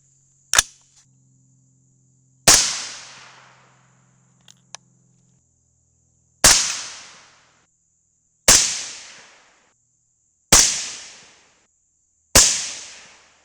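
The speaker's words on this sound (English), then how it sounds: "Shooting from a bipod in the rear bag." Five sharp rifle shots from a .223 with an 18-inch barrel, fired off a bipod with a rear bag, crack out one at a time at irregular intervals, each decaying quickly into silence.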